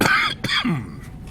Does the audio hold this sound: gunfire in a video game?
no